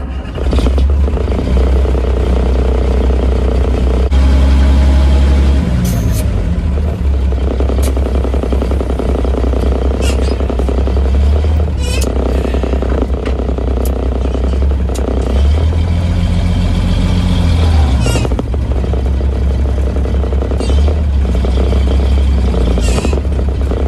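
The engine of the vehicle called The 60 rumbles steadily at close range with a deep, continuous drone, shifting pitch as it is worked through gear changes, with clanks and rattles from the machinery and no talk.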